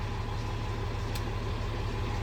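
A dump truck's diesel engine idles steadily and close, a smooth continuous low rumble with no talk over it.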